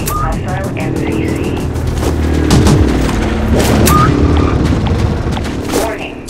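Heavy booming blasts and rolling gunfire from a null cannon striking an MCC in the game Dust 514, dense and loud throughout, with a game announcer voice over the battle.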